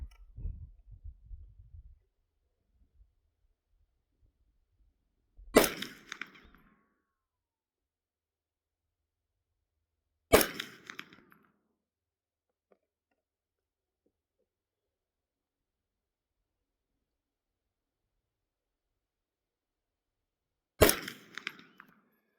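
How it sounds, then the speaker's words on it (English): An AR9 carbine fires three black tip 115-grain rounds at a target 132 yards out, each a sharp, loud crack with a short tail, spaced several seconds apart in otherwise quiet surroundings. "So the first 3 shots will be those black tip carbine only."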